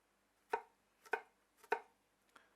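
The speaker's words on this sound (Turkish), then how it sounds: "şöyle küçük yaklaşık olarak böyle birebir kareler şeklinde doğrayacağım arkadaşlar." A knife chops garlic on a board with three evenly spaced, crisp thuds and a softer fourth, close and isolated in quiet surroundings.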